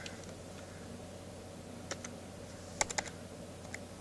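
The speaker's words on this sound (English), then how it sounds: "I'm going to type that again." Keystrokes on a computer keyboard while commands are entered for a Raspberry Pi, a few sparse clicks and a short quick burst near the middle, faint and close over a low steady hum.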